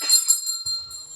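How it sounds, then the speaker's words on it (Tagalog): A handheld exorcism bell used as a sacramental rings in quick bright strikes, each leaving a shimmering metallic ring that fades, loud and close with no voices. "every time we ring the bell"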